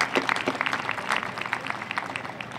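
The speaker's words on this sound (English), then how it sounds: "big thank you and applause for them for organizing" An audience at a Newtown, Connecticut thank-you event for therapy dogs applauds the organizers, a veterinary specialist practice; the clapping comes in clear, close bursts throughout, with a faint murmur of voices underneath.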